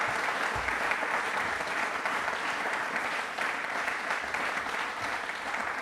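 Sustained, even applause from an audience at a Republic Day quiz program, a dense wash of many hands clapping that holds steady throughout with no talk over it.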